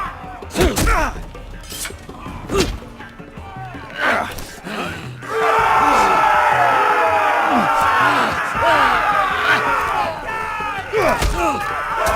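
A roaring arena crowd in a Game of Thrones video game swells and cheers continuously, punctuated by heavy thuds and slams and shouted voices over the din.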